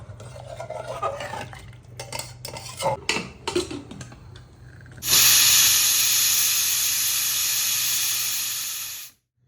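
Kitchen clatter and scraping come first, then a pressure cooker on high flame lets out a loud, sustained whistle and steam hiss lasting several seconds before cutting off abruptly.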